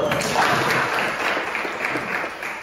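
A class of high school students at an Indonesian school applaud together, a dense, even patter of clapping that fills the whole stretch and eases slightly toward the end, with no voices over it.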